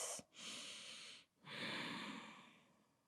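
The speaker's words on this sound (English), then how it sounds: "Deep breaths." Two long, deep breaths close by during a core-strength yoga exercise, each a soft airy inhale-exhale lasting about a second, separated by a brief pause, quiet and alone.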